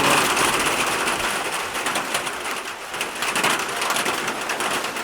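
Heavy rain pours down as a dense, steady hiss, loud and close and alone throughout, with heavier drops striking the surface.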